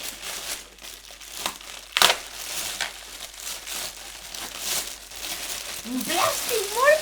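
Plastic packaging crinkles and crackles in close, uneven rustling bursts as a box is unwrapped during an unboxing, with a sharp tearing snap partway through.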